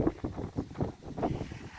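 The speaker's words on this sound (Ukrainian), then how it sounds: "Так що дуже сильний вітер." Strong wind buffets the microphone in rumbling gusts, rising and falling over nearly two seconds with no voices.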